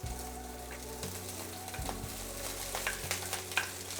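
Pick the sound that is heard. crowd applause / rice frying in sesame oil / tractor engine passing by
rice frying in sesame oil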